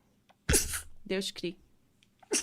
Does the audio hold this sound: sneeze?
yes